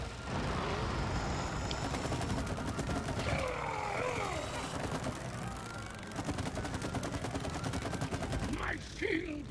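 Sustained rapid gunfire in the co-op game It Takes Two, dense fusillade-like shooting running through the whole stretch with grunts and other game effects mixed in.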